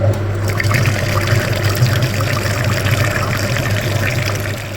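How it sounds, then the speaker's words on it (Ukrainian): Water sprayed at the front radiator of a Dacia Logan during a cooling system flush, producing a steady, loud hiss and splatter that runs unbroken throughout. "Це тільки початок, тому миємо передній радіатор."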